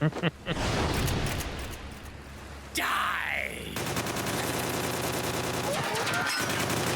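Bursts of automatic gunfire in the video game Metal Gear Solid 4, loud and rapid with a brief sweeping effect in the middle, then more sustained firing and a low thump near the end, with voices mixed in.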